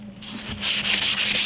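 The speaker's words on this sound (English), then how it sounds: "Just with 400 grit, I'm going to give it a little sanding" 400-grit sandpaper rubs back and forth over a stained wooden SKS rifle stock, a close, raspy scratching that grows louder and faster in quick rhythmic strokes.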